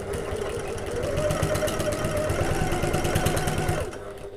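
A sewing machine runs steadily at close range, stitching back and forth to secure a seam on a bag, with a rapid even needle chatter that stops abruptly near the end.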